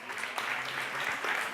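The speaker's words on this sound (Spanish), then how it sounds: "Un aplauso a Óscar" A short burst of audience applause at a conference event, dense steady clapping filling the moment with a faint voice underneath.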